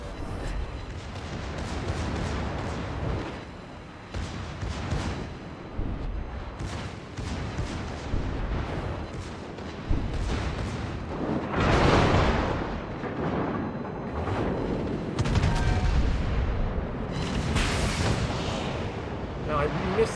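The Tirpitz battleship fires its main guns in a naval video game, giving repeated deep booming salvos over a continuous rumble of battle noise.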